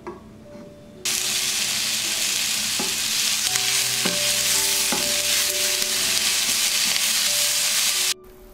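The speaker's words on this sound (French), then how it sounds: "J'y place les oignons, l'huile d'olive et l'arôme magie, et je fais revenir le tout à feu fort, environ 5 minutes." Onions in olive oil fry hard over high heat. A loud, steady sizzle starts abruptly and runs for about seven seconds with a few utensil clicks and a faint hum underneath, then cuts off sharply.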